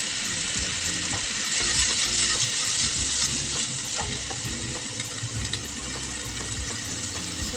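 Zucchini and broccoli stir-frying in a pan give a steady, loud sizzle throughout, with faint clinks and scrapes from stirring mixed in.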